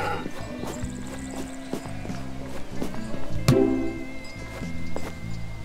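A horse in the video game Party Maker whinnies and clip-clops at a steady walking pace, set against background game sounds and music, with a sharp sound near the middle.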